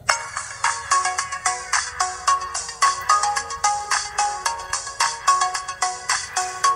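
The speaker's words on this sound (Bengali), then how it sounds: "চলুন ফোনটির যে রিংটোন আছে সেটা একটু চেক করে নেওয়া যাক।" Built-in ringtone of a Samsung Axion i700 phone, a loud, bright electronic melody of rapid repeating note bursts played alone from start to finish.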